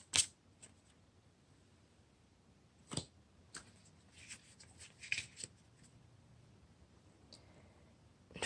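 Tarot cards are shuffled by hand in a quiet room, giving sparse crisp riffles and sharp papery snaps scattered irregularly, close and soft, with no voices.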